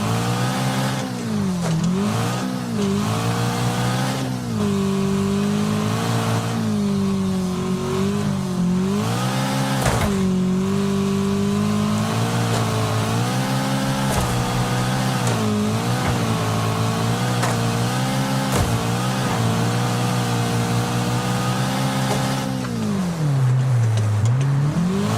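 A car engine roars in the racing game Wreckfest, holding a loud, sustained drone that rises and dips through shifts and revs, with a damaged gearbox and sluggish acceleration, plus a deep downshift near the end and no talk.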